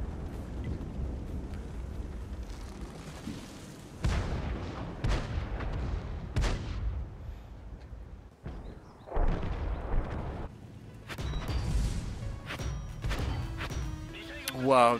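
Heavy tank cannon shots from World of Tanks boom out in several separate bursts, loud sharp blasts with short decays, spread unevenly among quieter stretches of engine rumble and game noise.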